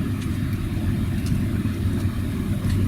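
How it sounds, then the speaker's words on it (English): An electric car pulls away from a standstill to pass a parked vehicle, a steady low road and tyre rumble with a faint whine building slightly, continuous and close inside the cabin, no talking. "To get it to move, I press the accelerator and I can accelerate to the speed I need."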